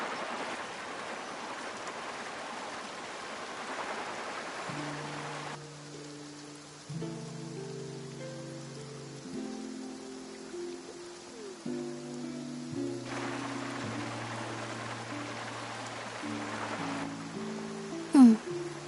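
Steady rain pattering in a Genshin Impact game scene, a soft continuous hiss running the whole time, with sustained musical tones layered over it through the middle.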